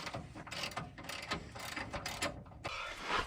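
A ratchet clicks in quick irregular bursts while loosening a suspension bolt during control arm and coil-over shock work on a 1976 Pontiac, close and fairly quiet with a steady mechanical rattle throughout.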